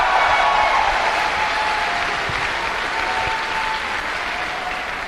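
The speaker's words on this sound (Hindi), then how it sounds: "एक जोरदार तालियां।" Loud, sustained clapping from a crowd at a motivational leadership talk, filling the whole stretch and easing off slightly toward the end, with no one speaking.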